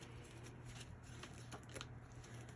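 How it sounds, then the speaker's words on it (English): Tarot cards being shuffled by hand, a soft, rapid riffling and flicking heard close and quiet over faint room hum, without any talking. "These cards not shuffling properly."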